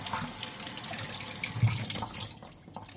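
Tap water runs steadily into a kitchen sink while garden-picked zucchini are rinsed for fritters, a close, constant splashing with small shifts as the vegetables move under the stream, no talking.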